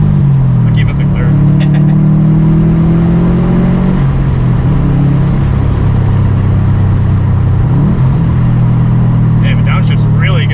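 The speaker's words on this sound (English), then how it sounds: "one of my favorite things doing in this car is downshifting." Subaru STI with a stage 2 tune, engine revving sharply on downshifts with repeated rising and falling blips over a steady drone, loud and close from inside the car; people talk over it.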